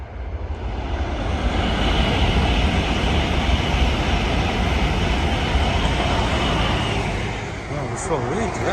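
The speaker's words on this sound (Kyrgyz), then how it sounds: "Летит Шинкансен, смотрите." A Shinkansen high-speed bullet train passes with a loud, continuous rushing roar that holds for several seconds before tapering off.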